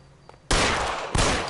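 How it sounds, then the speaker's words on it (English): Two loud gunshot bursts ring out in the video game L.A. Noire during a standoff, each a sharp broadband crack with a short decaying tail, the second following about half a second after the first. "Otherwise he's returning fire."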